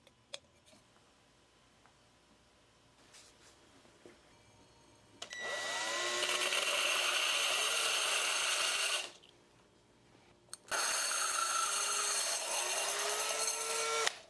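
A drill cutting a hole in glass whines steadily at high pitch for a few seconds, stops briefly, then grinds on again, close and loud against a quiet background.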